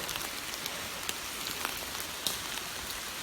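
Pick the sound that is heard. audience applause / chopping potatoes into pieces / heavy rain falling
heavy rain falling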